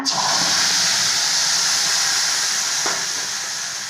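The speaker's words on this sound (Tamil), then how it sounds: "கொஞ்சமாக எண்ணெய் ஊற்றி கடுகு சேர்த்துக்கோங்க நல்லா பொரிஞ்சிச்சிங்க" Mustard seeds spluttering in a little hot oil for onion chutney: a loud, dense hiss and sizzle that starts abruptly and holds steady, close up, with a faint pop near the end and no voices.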